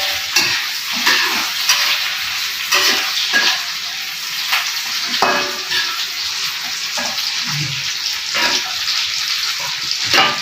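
Food sizzles steadily in a frying pan during preparation of soto with chicken feet and chicken heads, with repeated scraping stirs and clinks breaking through the close, continuous hiss.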